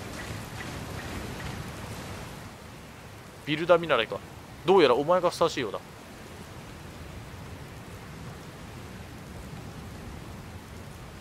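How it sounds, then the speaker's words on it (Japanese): A storm in the video game Dragon Quest Builders 2 brings steady, hissing rain that pours throughout. A voice speaks briefly in the middle while the rain continues underneath. "雨か。"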